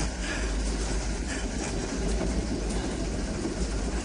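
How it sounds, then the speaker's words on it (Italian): A train running along rails on a dead-end track, a steady, loud rumble with continuous rolling noise throughout and no voices. "Ferma il treno. Siamo su un binario morto."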